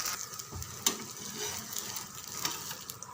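Food fries in a little oil in a pan, giving off a steady, fairly quiet sizzle with a few faint clicks and a brief louder crackle.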